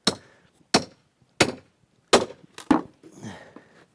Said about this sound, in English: I'm taking the nail puller for showing you.